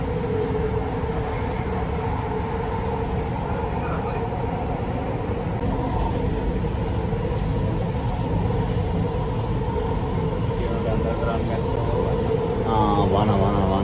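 A Doha metro train at a Qatar metro station, a steady loud rumble and hum of the moving train with squealing tones near the end, continuous throughout with a voice talking over it.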